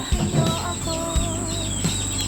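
A hen and a rooster being prepared for conditioning, heard as short clucks and fowl calls close by, a few brief vocal bursts over a faint steady background whine.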